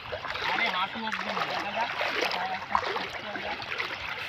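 People wading through shallow river water near the source of the Ganges, steady splashing and sloshing close by, with voices talking over it.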